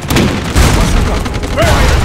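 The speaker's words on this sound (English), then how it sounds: "Bazooka! Fire!" Bazooka shot in Road To Valor: World War II, a single loud close boom with a heavy low rumble that fades briefly before another thump, game voices shouting commands.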